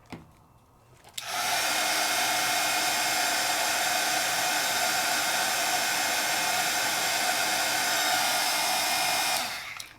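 A heat tool melting embossing powder switches on after about a second and blows a loud, steady whoosh close by for roughly eight seconds before cutting off.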